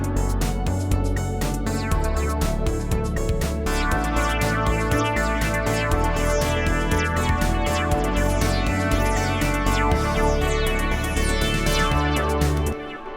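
A bright synth lead melody plays over a steady backing track, its notes echoing with a repeating delay, loud and continuous throughout.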